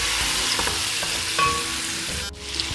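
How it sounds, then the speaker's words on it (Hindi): Chicken pieces frying in a pan for yakhni pulao, a steady close sizzle with light stirring scrapes and a brief louder crackle near the end, no voices. "चिकन ऐड करने के बाद अब हम इसे थोड़ी देर के लिए भूनेंगे।"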